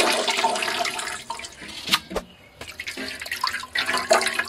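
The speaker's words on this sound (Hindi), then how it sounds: "लेकिन फिर भी इसको 3-4 पानी धोना है।" Noni saag greens are swished and rinsed in a basin of water, with close splashing, sloshing and trickling that stops briefly, then picks up again. No one speaks.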